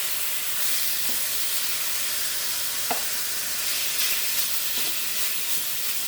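Food sizzles and fries steadily with soy sauce in an Aldi wok, a continuous close hiss with a few faint stirring clicks and no talking.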